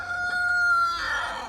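A rooster in a snowy upstate New York farmyard on a cold January day gives a single short, slightly raspy crow, close and loud, rising then breaking into a hoarse trailing end.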